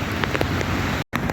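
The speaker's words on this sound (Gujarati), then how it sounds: "ચારે બાજુ વરસાદ છે હો." Heavy rain and rushing water pour down at Damodar Kund near Girnar in Junagadh as a dense, steady roar, with a brief dropout near the end.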